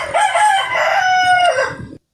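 A rooster crows one long, loud call lasting nearly two seconds, rising then holding a sustained tone before cutting off, close and alone with no talk.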